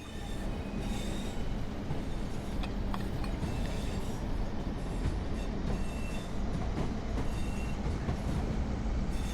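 Continuous loud rumble of a Class 142 Pacer diesel train engine revving up in Train Sim World 4, a steady droning roar with faint rail clatter and occasional squeaks.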